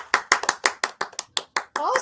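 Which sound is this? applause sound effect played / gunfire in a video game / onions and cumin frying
applause sound effect played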